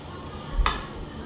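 A cooking pot is picked up and set down in a home kitchen, giving a single brief metallic clank and knock against a quiet background.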